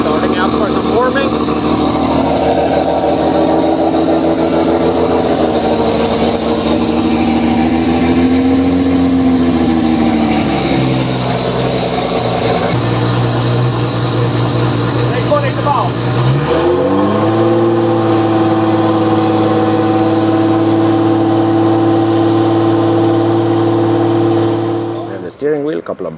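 A car at a street car meet, fitted with beadlock wheels and 33-inch tyres, starts up and idles loudly nearby, its engine note shifting and settling as it warms.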